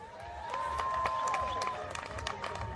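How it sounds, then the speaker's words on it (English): A crowd at a kickboxing fight event claps and cheers for the fighters in a steady dense patter, with voices shouting and whistling over the applause. "Do you think the fighters deserve a big round of applause?"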